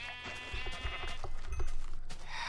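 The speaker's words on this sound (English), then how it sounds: "One more sheep." Minecraft sheep bleat twice in quick succession, a nasal, wavering cry that sits close and clear over a faint game-ambience bed, with no voices present.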